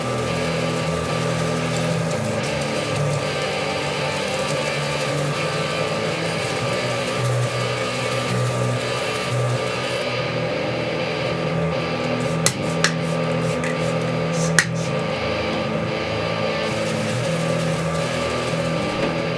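Loud, steady whir of a wood lathe spinning an ambrosia maple bowl while it is sanded through successive grits, with a constant motor hum and a couple of brief clicks near the end.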